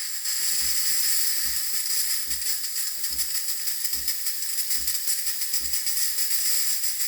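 A loud, constant steam hiss from a DeLonghi Dedica espresso machine steam wand runs throughout, with a rhythmic low pumping thump about every 0.8 seconds beneath it.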